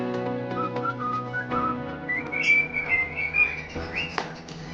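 A pet talking bird whistles a string of clear, sliding tonal notes, rising and falling in short phrases close by, with no talk over it.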